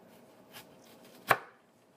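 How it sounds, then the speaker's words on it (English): Knife cutting ginger into thin slices, one soft tap and then a single crisp, sharp chop against a cutting board in an otherwise quiet room. "So with the ginger, you actually want to cut them into slices."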